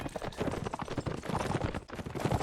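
Horse hooves clatter in a rapid, uneven clip-clop during a video-game tournament battle, loud and busy with sharp impact noises mixed in, and no talk.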